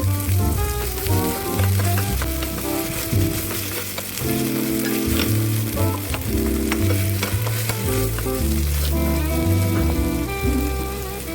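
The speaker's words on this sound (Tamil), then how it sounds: "இப்போ அதே எண்ணெயில் வெட்டி வச்ச வெங்காயத்தை போடுறேன். நல்லா வெங்காயம் ஃப்ரை ஆகட்டும்." Steady, crackling sizzle of onions frying in hot oil, with occasional stirring, continuous throughout while music plays underneath.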